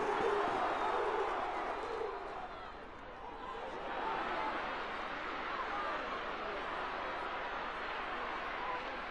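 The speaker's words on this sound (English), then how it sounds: "the Offaly crowd come to life" An Offaly hurling crowd roars after a goal at a Leinster semi-final replay in Portlaoise, with a broad sustained cheer that swells, dips briefly, then surges again, under a commentator's voice.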